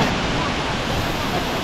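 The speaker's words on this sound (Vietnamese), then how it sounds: "đây chính là thác nước Nạc Nhật Lãng" Nuorilang waterfall in Jiuzhaigou, China, roars as a dense, continuous rush of falling water, loud and unbroken with a wind-like hiss across the whole stretch.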